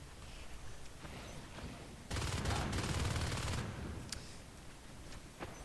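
Rapid bursts of gunfire in the multiplayer game Natural Selection, in a competitive league match, build into a dense, sustained volley for about a second and a half, then give way to scattered single shots over quiet game ambience.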